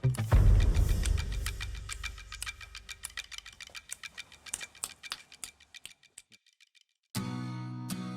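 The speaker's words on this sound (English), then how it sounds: "He's tracing the car to within a few centimeters and making a clicking sound just like a" A blind man echolocating beside a car makes sharp tongue clicks with his mouth, a rapid series of crisp, close clicks that fade in intensity, then stop, before a brief burst of other noise at the end.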